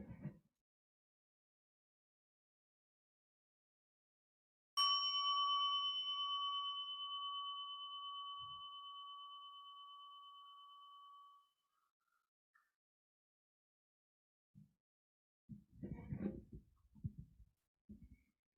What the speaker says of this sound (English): Let's see, I'll do the bell.